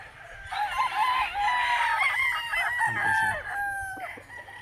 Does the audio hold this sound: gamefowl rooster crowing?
yes